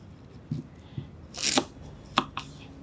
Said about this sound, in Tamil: ஸோ பீட்ரூட்டை நம்ம சின்ன சின்னதாக வந்து கட் பண்ணிக்கலாம்